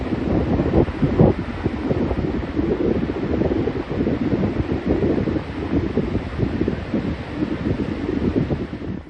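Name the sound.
strong cold wind on the Oregon coast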